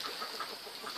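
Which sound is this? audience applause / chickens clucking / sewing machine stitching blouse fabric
chickens clucking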